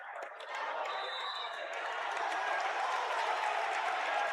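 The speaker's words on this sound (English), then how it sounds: "Crowd's a little into it, wouldn't you say? Oh, both sides are." Crowd cheering and applauding in a gym at a high school boys varsity wrestling semifinal, a broad sustained roar that swells after a brief dip and stays loud, with voices shouting within it.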